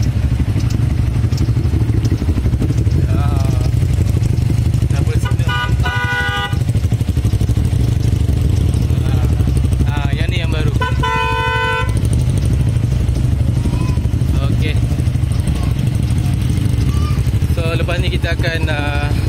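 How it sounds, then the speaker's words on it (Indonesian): A newly fitted horn on a Yamaha VF3i motorcycle sounds in several loud, sharp blasts over the bike's steady, close engine idle. "Masing-masing test horn baru."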